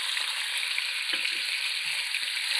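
Chicken pieces frying in hot oil in a pan, a dense, loud, continuous hiss and crackle held steadily throughout, with only faint low knocks beneath it and no talking.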